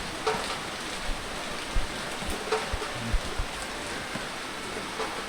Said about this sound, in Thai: บรรยากาศฝนตกนิดเนาะ